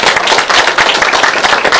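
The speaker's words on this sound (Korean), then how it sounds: "다시 한번 큰 박수 부탁드립니다." A lecture audience at a constitutional amendment history talk at the Seongbuk District Office gives a loud round of applause, dense rapid clapping throughout, close and steady with no talking.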